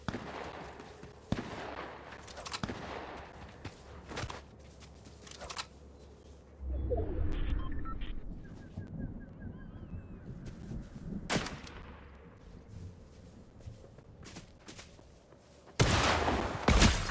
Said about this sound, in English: Yeah, the hunting rifle's pretty good.